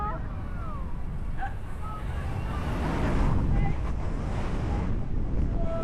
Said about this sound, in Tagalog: Pag lumalakas yung hangin, nakakatakot.